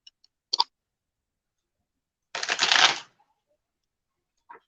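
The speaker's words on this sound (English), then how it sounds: "Let me do a better shuffle." A deck of tarot cards being shuffled: two short riffling bursts, then one longer, louder shuffle lasting under a second, with a few faint clicks and a last brief riffle.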